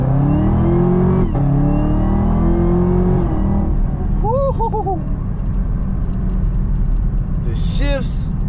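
A powerful Chevrolet Camaro ZL1 engine revs hard and climbs through the gears, a deep roar rising in pitch with sharp shift breaks, while a voice speaks briefly over it.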